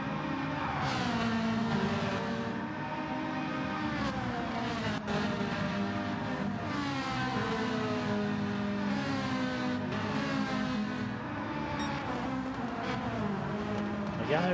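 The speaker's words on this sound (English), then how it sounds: "Mickey Moo's revving that engine out." A race car engine revs hard in the Gran Turismo 7 racing game, with several engines droning and rising and falling in pitch together at a steady, moderate level throughout.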